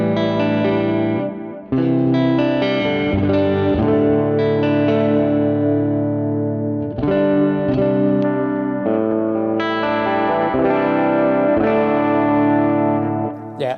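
Clean electric guitar played through a Sonicake Matribox II Pro multi-effects unit with chorus, ringing sustained chords that restart every few seconds, loud and shimmering with no voices.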